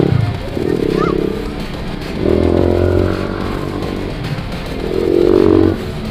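A motorcycle engine revs in two or three rough, throaty bursts close by, with faint voices in the background.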